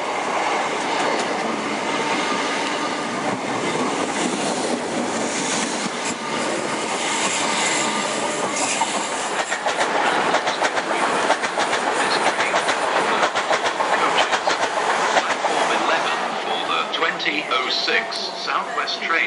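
Class 442 South West Trains eight-coach passenger train rushing past, a loud continuous roar with rhythmic wheel clatter and some squeal, close by throughout.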